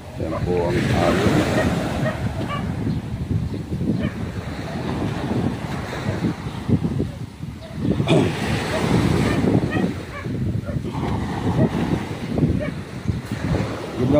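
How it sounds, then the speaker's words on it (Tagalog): Ocean waves crash and wash onto the shore in strong wind, a loud, surging roar that swells and falls in rolling bursts, heavy wind buffeting the microphone, with voices faintly mixed in. "Yan po ang alon."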